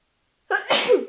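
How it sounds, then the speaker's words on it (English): A single sharp sneeze bursts out after a moment of silence, close and loud, with a brief breathy tail. "God, I'm sneezing so much."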